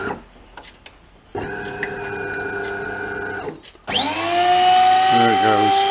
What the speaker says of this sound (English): Clearly not grinding any beans, just whirring.